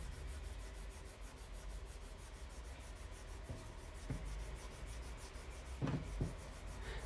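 Steady soft rubbing of a fine-grit polishing pad across the frets of a restored 1950s Musima Emperor guitar, a continuous close scrubbing rhythm with a couple of brief knocks near the end.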